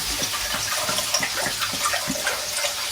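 Tap water runs steadily into a cooking pot, filling it for boiling pasta in a home kitchen; a continuous broadband rush with a few faint clinks, close and fairly loud, with no talking.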